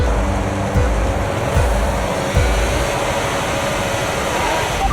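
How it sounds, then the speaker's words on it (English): A Formula 1 car engine in the video game F1 25 drones steadily at held revs before the start, with a faint high whine above it, a few brief dips in pitch, no voices. "Let's build the revs up and hold them."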